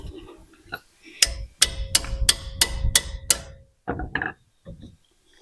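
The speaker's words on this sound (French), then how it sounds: "Je vais les desserrer avec un petit coup de marteau." Hammer striking metal to loosen wheel bolts on a Subaru Legacy during a wheel bearing replacement: six sharp, ringing taps in quick even succession, near and loud, with a few softer knocks before and after.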